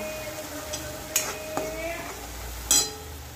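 Dal fries in oil in a pan with a soft sizzle, punctuated by a few sharp clinks of a stirring utensil against the pan, close and quiet.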